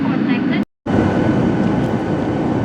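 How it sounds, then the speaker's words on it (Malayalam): A loud, steady low roar of an Air India airplane cabin in flight, briefly cutting out to silence before resuming unchanged. "ഇപ്പോൾ ഫ്ലൈറ്റ് നേരെ പോയിക്കൊണ്ടിരിക്കുകയാണ്"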